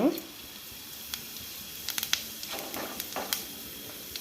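Mustard seeds and cumin hitting hot oil in a pan, a faint steady sizzle with scattered small pops and crackles close by.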